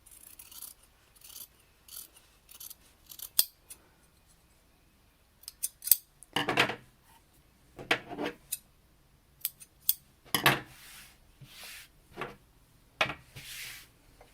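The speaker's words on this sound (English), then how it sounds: "So I'll take all my clips out and trim off all of the excess kind of hanging over anywhere here." Scissors snip away excess material on a handmade shoe, with short bursts of close, crisp cutting spread across the clip and quiet pauses between them.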